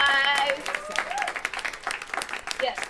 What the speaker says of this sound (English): let's clap it up for our panel